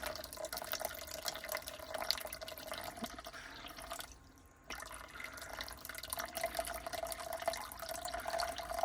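Water runs and trickles into a jug for nearly nine seconds, a steady close liquid wash that briefly drops away around the middle before resuming, with no talking.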